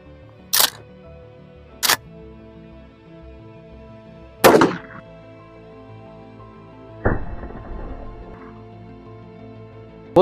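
Sharp, loud gunshots ring out one at a time outdoors, aimed at an AT3 Tactical ARO Mini red dot sight: two quick cracks, a louder blast with a ringing tail, then a deeper boom, with quiet gaps between.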